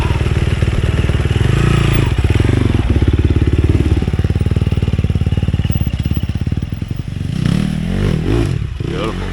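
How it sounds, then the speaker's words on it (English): Sherco 300 four-stroke trials motorcycle engine, loud and close, with a rapid chugging pulse that revs and falls, plus some clatter and scraping toward the end. "25mm Sherco 300 4-stroke."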